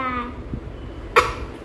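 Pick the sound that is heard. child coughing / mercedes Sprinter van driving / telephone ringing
child coughing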